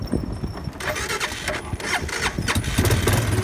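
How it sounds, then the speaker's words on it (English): A sled-dog team's vehicle engine cranks and catches, a loud close rumble of repeated turnover bursts building into a running engine over a few seconds, with no talk. "And now I need to turn on the engine."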